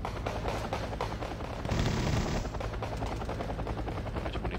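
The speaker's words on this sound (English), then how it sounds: "Mi-25 engaging these allies infantry that is pushing up" Mi-25 attack helicopter firing its guns in the strategy game Wargame: Red Dragon, a continuous rapid rattle of gunfire over a steady rotor drone, loud and dense with a heavier burst near the middle.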